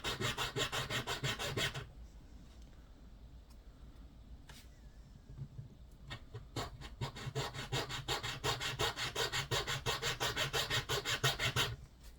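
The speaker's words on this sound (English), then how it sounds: "This plastic material is real soft for working with a file." A file rubs back and forth across a soft plastic sight blade in quick, close, rhythmic rasping strokes, a burst at the start, a pause with scattered scrapes, then a long steady run of strokes.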